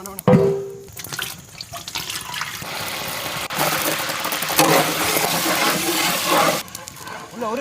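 Water gushes and splashes steadily into a pot for cooking lobster outdoors in a village setting, with a continuous pouring wash that fills the clip, and people talk briefly over it.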